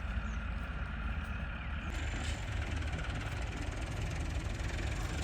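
A big tractor fitted with a planter runs its engine at idle, a loud, steady, close rumbling drone with a constant vibrating throb throughout and no talking.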